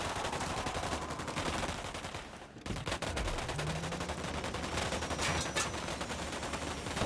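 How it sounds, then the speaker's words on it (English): Automatic gunfire in Ghost Recon Wildlands rattles in rapid continuous bursts, with a short pause before the shooting resumes just as densely. "Opening fire on these fuckers"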